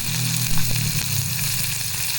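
Chopped garlic, ginger and green chili hit hot oil for a crispy corn snack, giving a steady, close, bright sizzle that crackles continuously with no talking.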